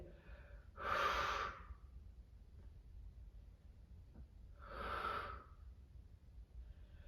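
Two deep, slow breaths, an inhale and exhale about four seconds apart, close and soft with no talking, during a floor stretch in a high-intensity home resistance workout.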